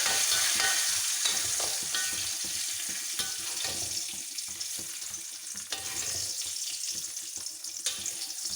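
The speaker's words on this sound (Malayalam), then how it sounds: "ഞാൻ കുറച്ച് കടുക് താളിച്ചൊഴിക്കാൻ പോവാം" Mustard seeds pop and sizzle in hot oil for a tempering poured over a jackfruit masala curry, a dense crackling hiss with sharp spattering bursts close by.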